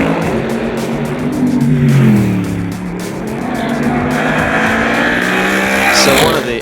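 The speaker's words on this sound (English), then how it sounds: "The engine sound obviously is very particular, very special as well" A Mercedes-Benz SLS AMG GT3 race car engine roars loudly and continuously, its pitch sweeping up and down as it accelerates and shifts, heard close with a rough mechanical edge.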